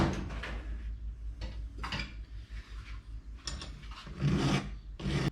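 Hand file rasping over a metal brake-line part after paint removal, a run of uneven rough scraping strokes at close range, with louder bursts near the end and no talking.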